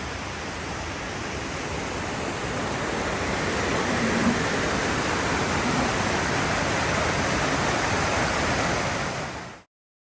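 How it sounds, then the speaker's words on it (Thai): Strongly flowing water of a waterfall or stream swollen by the rainy season near Chiang Mai, a steady, full, hissing roar that holds evenly and then cuts off abruptly. "น้ำเพิ่งจะเริ่มแรงหน่อยเพราะหน้าฝนนะ"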